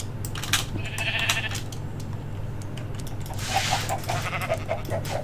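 Goat and sheep bleats from farm animals in the Minecraft video game, several short cries in a steady run over a low background hum.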